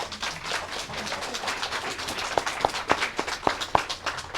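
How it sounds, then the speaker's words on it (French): Applause at a memorial tribute gathering: a soft murmur at first, then a handful of sharp, separate hand claps near the end, sparse and fairly close. "On les applaudit, s'il vous plaît."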